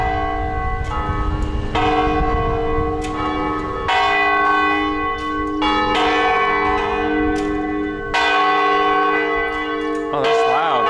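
A church bell in a small Portuguese town rings loudly and repeatedly, the strikes coming at an irregular pace with strong lingering overtones, up close and alone.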